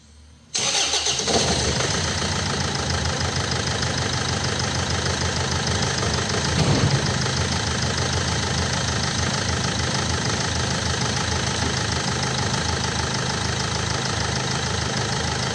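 A Land Rover Freelander diesel engine starts up sharply after a brief quiet moment, then runs at a steady, loud idle for the rest, with one slight surge partway through.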